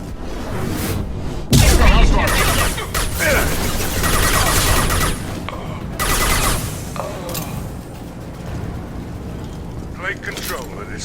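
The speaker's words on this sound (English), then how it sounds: "Blue Suns and Vorcha shooting anything that moves." Gunfire from Blue Suns mercenaries and Vorcha in the video game Mass Effect 2, a dense stretch of shots and booms with a heavy blast near the start, mixed with game effects and background voices.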